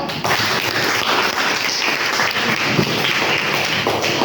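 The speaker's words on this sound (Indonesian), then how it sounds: "jadi tepuk tangan dulu" A class of schoolchildren claps hands together in a classroom, a dense, close, fairly loud burst of clapping that runs steadily for several seconds.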